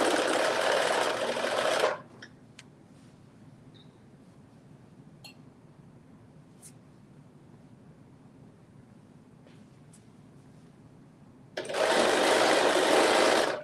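A sewing machine stitches a seam with a 5/8-inch allowance, running loud and steady in two bursts at the start and end with a quiet pause between.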